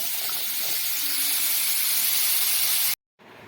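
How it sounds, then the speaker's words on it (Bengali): Pumpkin pieces frying in hot oil in a wok (kadai), after potatoes were fried in the same oil, give a loud, continuous hiss that stops abruptly near the end. "এবার এই একই কড়াইতে আবার আমি"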